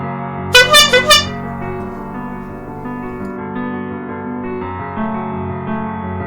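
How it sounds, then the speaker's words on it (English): A car horn in a video game blares three quick, loud honks close together near the start, then gives way to steady tonal game sounds. "Oh, honk honk."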